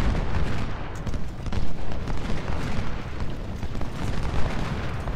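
Civil War battle in Ultimate General: Civil War, with artillery and massed musket fire merging into a dense, continuous rumble of overlapping shots and booms.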